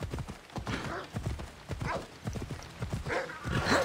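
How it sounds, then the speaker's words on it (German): Rhythmic clip-clop of horse hooves at a steady gallop in Assassin's Creed Odyssey, fairly close and continuous, with faint game sounds around it. "Rufen wir unser Pferd."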